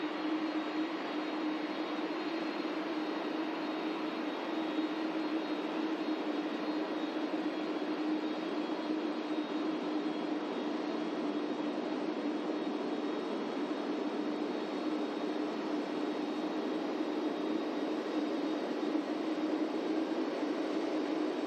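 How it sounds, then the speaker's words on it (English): A heavy jet airliner departing Manchester Airport, its engines producing a steady, loud roar that holds evenly throughout with no talk over it. "Another awesome heavy departure coming up, ladies and gentlemen."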